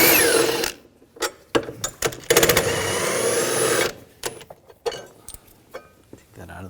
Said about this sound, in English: 15mm socket, take these bolts out